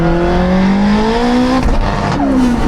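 A Honda AWD and a Porsche 918 Spyder accelerate hard side by side in a rolling half-mile drag race, engines roaring loud and close with rising pitch and a gear change partway through.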